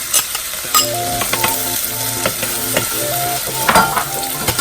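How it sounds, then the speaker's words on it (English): Half an onion and a garlic clove sweat in extra virgin olive oil, giving a steady close sizzle with the scrape and clink of a utensil stirring through the pan at irregular intervals. "take half an onion and 1 garlic clove, start sweating."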